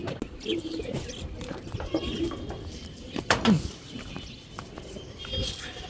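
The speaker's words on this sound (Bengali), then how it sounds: "আমি এখন ভিতরে যে কবুতরগুলি ছাড়তেছি আপনারা একটু দেখেন" Racing pigeons flutter and coo nearby as they are released, with soft wing flaps and scattered rustling; a brief louder flurry of wings stands out midway.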